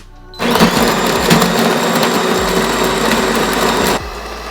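A DeLonghi Magnifica Evo ECAM29084 super-automatic espresso machine grinds and whirs loudly for about three and a half seconds while making a preset beverage, then drops to a quieter hum.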